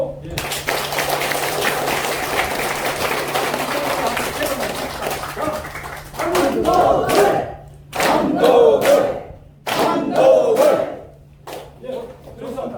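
Applause and cheering from the audience at a community meeting hosting a member of the National Assembly in Naju, loud dense clapping and crowd noise for several seconds, then bursts of clapping alternating with someone speaking over a PA.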